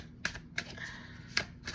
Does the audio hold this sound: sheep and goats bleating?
no